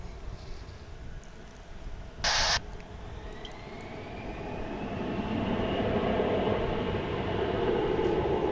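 A jet airliner taxis at DFW International Airport, its engine whine rising and broadening into a steady, loud roar over several seconds, with a brief hiss partway through and no talking.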